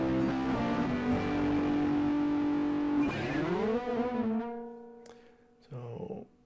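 Bogner Burnley Classic distortion pedal driving an electric guitar: a thick, sustained chord rings loudly, bends downward around the middle, then fades before a short final stab.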